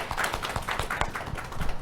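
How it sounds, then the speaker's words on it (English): Audience applause after a talk at a conference summit, a short burst of many hands clapping together at moderate distance, steady and dense. "A round of applause"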